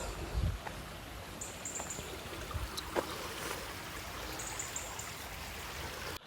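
A river runs downstream beside the General Cemetery, its steady rushing wash filling the background at moderate volume, with a few faint bird chirps and light knocks over the flow.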